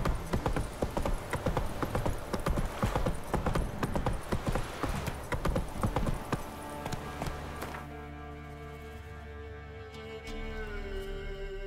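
Roach the horse from a video game gallops with steady, close clip-clop hoofbeats over game music for about eight seconds, then the hooves stop and the music continues alone.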